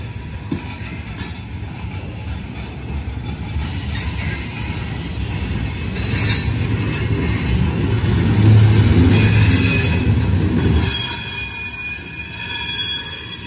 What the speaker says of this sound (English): this train is coming out of the steel mill that's located up in Middletown